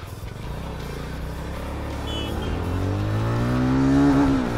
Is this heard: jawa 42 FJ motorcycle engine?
yes